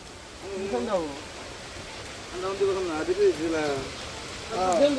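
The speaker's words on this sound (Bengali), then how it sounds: "বৃষ্টি আবারও শুরু হয়ে গেছে" Steady rain falls outdoors at a village cooking site, a soft even hiss throughout while a voice talks over it in several stretches.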